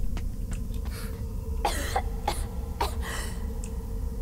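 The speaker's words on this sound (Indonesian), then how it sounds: "Ini kenapa gue jadi batuk-batuk sih?" Several short coughs and throat-clearing bursts from a video game character in DreadOut 2, spaced irregularly over a steady low background hum, fairly close and moderately loud.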